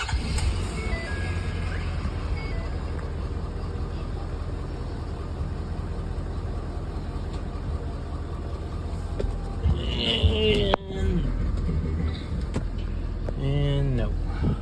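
A 2011 Ford F-250 with the 6.7 Powerstroke diesel and glow plug faults, hood open, runs with a steady low rumble. A sharp change near the end marks cranking or a restart, and someone speaks briefly.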